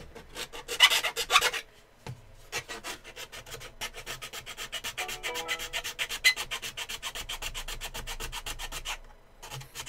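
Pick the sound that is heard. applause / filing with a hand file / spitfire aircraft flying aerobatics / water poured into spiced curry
filing with a hand file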